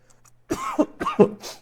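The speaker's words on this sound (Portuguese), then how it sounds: "E agora bateu a crise de tosse." A short burst of harsh coughing, several hacking coughs in quick succession, close and fairly loud with no talking.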